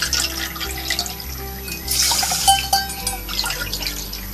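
Water poured into a pot holding a cup of basmati rice, with a steady splashing trickle and a few drips over a low background hum.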